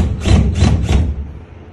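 Screwdriver driving a screw tight while mounting a T8 linear LED pendant light fitting; three close, gritty rubbing strokes in a steady rhythm, then a quieter tail.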